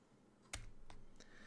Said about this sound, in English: if you hear me randomly clicking my keyboard just once